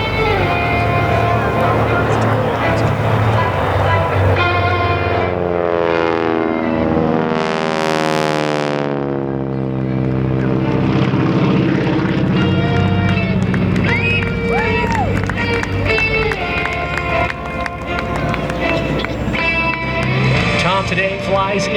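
A polished aluminum T-6 Harvard Mark II warbird roars loudly through a triple-roll aerobatic display, its engine pitch sweeping as it passes by, with a commentator talking over it.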